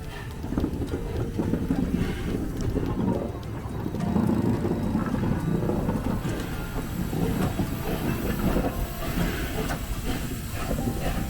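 Heritage Cockle Train locomotive moving slowly along a siding track, a continuous low rumble with hiss and faint clickety-clack of wheels on rail, steady and fairly close throughout.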